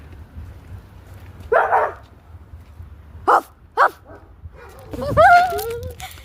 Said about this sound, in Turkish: Onlar arkadan havlar.